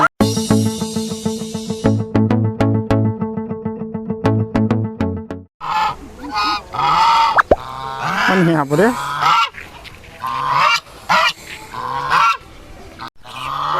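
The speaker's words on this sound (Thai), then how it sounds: "มาดูวิธีการเลี้ยงห่านนี่" A flock of geese on a traditional rural farm honks loudly and repeatedly. Their calls overlap in uneven bursts at close range, and people talk briefly among them.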